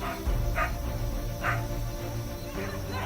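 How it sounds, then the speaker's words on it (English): A pack of wild dogs chasing a Komodo dragon gives several faint, distant yips and barks at irregular intervals over a steady background rumble. "It's being chased closely by the dogs."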